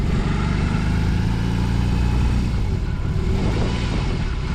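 A BMW R18C cruiser motorcycle rumbles steadily while being ridden, a dense, constant low engine drone with no voices.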